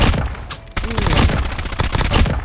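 A BP50 rifle fires rapid four-round bursts in Call of Duty: loud, dense cracking shots run almost without pause, with one brief dip in the middle.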